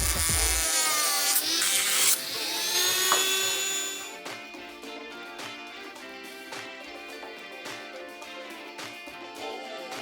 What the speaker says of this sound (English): So I will adjust it with the Dremel.